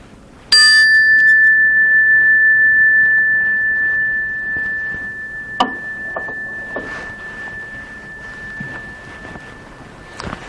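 A mindfulness bell is struck once, ringing out loudly with a clear sustained tone that slowly fades over several seconds, then a second lighter strike rings faintly among soft room noises.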